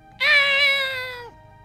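A cat in the video game Chrono Trigger gives a single clear, drawn-out synthesized meow, loud and alone, lasting about a second before cutting off.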